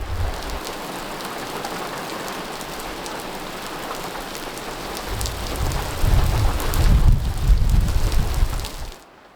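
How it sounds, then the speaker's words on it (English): Steady heavy rain falls outdoors at a DIY shepherd hut build, a dense continuous hiss with low rumbling swells toward the end, close and loud before it cuts off abruptly. "Here comes the rain."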